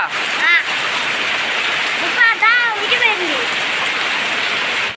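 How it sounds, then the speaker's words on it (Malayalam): Heavy rain pours steadily outside, a loud, unbroken broadband wash across the whole clip, with a few short vocal-like sounds rising above it midway. "വെളിയിൽ നല്ല മഴയാണ്"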